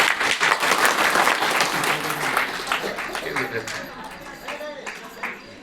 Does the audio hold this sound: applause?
yes